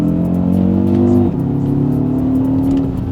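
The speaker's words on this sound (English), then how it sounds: "I love the sound of this engine, I really do." A 2024 Audi RS Q3's five-cylinder engine revs hard in sport mode, a loud, close, droning wail that climbs in pitch, dips briefly at a downshift, then pulls strongly again.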